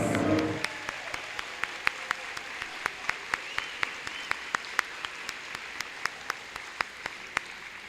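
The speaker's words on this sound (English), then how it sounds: "Let's give them a round of applause." Applause for graduates at a 2021 Graves Middle School promotion ceremony: a brief burst of scattered clapping fades quickly, leaving a few individual hand claps spaced rhythmically over a quiet background.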